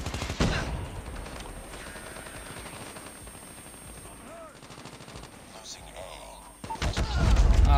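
Gunfire in Call of Duty Mobile hits the player: rapid automatic shots rattle continuously under the game's busy mix, swelling into a louder burst at the end.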